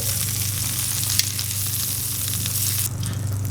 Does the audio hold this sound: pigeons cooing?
no